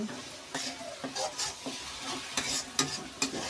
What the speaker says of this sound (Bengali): দিয়ে এবারে এটাকে ভালো করে মিক্সড করে নেব